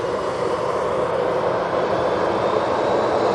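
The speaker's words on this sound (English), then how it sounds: "Easyjet now on the roll." An EasyJet airliner rolls down the runway on takeoff at Manchester Airport, a steady, loud broadband jet roar that holds constant throughout with no voices over it.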